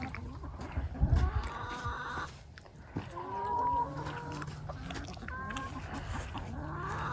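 Chickens cluck and murmur nearby in a loose, overlapping chorus of soft calls, with a few louder squawks and some low rustling and handling noise.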